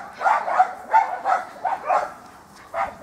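A friendly small dog, about 30 to 35 cm at the shoulder, gives a series of short barks and yips in quick bursts, with a brief pause before a final bark, close to the microphone.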